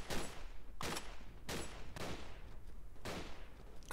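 Rifle gunshots in the video game Verdun, with about four loud, evenly spaced shots cracking over steady background battle noise.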